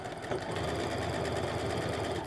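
A sewing machine stitches close to the edge of a double-fold hem on a simple A-line skirt, running in a continuous rapid mechanical whir with a fast needle rhythm, loud and near throughout.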